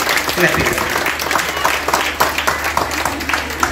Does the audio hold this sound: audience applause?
yes